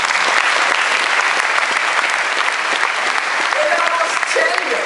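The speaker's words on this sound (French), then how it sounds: "Xavier Bongibaud, que je vous demande d'applaudir," An audience applauds at a political party congress in a Paris hall, dense steady clapping filling a large room throughout, loud and continuous with a few faint tonal sounds beneath.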